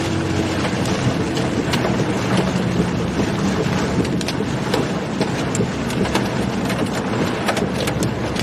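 Strong, steady wind buffets the microphone during a tornado chase in Nebraska, a constant loud rushing roar with no letup.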